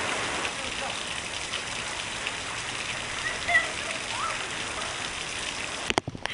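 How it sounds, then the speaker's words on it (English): Rain falling outdoors, a steady dense hiss of drops filling the scene, with a few brief knocks and handling bumps near the end. "It's raining."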